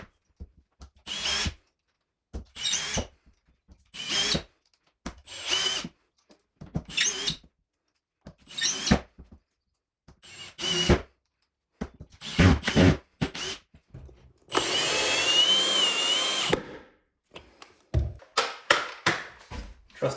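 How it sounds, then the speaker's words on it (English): A belt sander knocks high edges off old wooden floorboards in an off-grid cabin, running in short, loud, close bursts with pauses between and one longer continuous pass near the end. "I will be using this belt sander to remove some of those high edges off of some of these boards down here"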